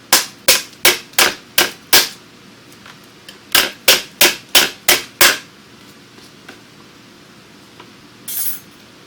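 A die cutting machine cuts an intricate die, giving two runs of about six loud, evenly spaced sharp clacks each, then quieter ticking and a brief final burst of noise.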